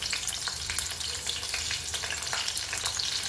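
Stuffed okra (bhindi) frying in a pan, giving a steady, close, dense sizzle with faint crackles scattered through it and no voices.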